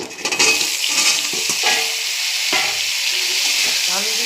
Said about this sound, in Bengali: পেঁয়াজটা একটু ভেজে নিয়েছি, এবার আমি দিয়ে দেবো আলুগুলো